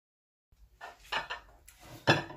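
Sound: mixing pasta with Bolognese sauce in a pot

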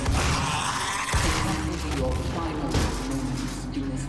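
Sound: machine gun firing in the video game Doom 2016

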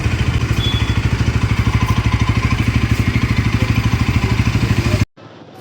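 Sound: Bajaj Pulsar NS200 motorcycle engine and exhaust sound

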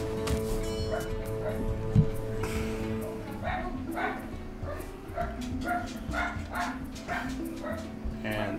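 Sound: dog barking from Hearthstone video game

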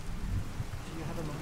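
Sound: rain in Fallout 4 video game

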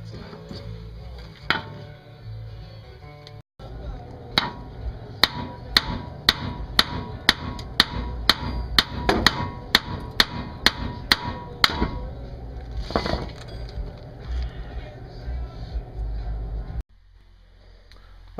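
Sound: hammering on a ball joint

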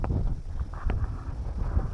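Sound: cold wind blowing

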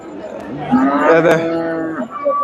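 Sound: bulls mooing at a cattle market

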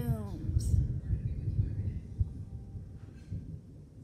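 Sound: thunder

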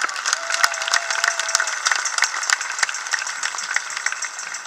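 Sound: crowd applause at charity carnival

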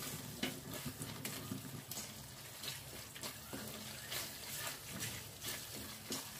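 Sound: stirring egg roast masala after adding sugar

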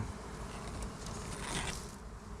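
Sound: bees buzzing around a wild honey nest

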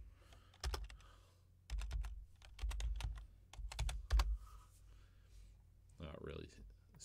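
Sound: typing a username and password on a computer keyboard

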